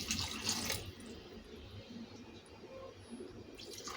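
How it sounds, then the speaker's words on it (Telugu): Water pours into a pot of drumstick rasam already holding tamarind pulp, a splashing gush at the start, a quieter trickle, then another burst at the end. "వాటర్ కూడా పోసుకుందాం."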